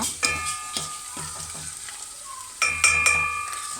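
A dish being stirred as it fries in a pan, with sharp metallic spatula clinks and scrapes over a softer sizzle, several close strikes clustered near the start and end.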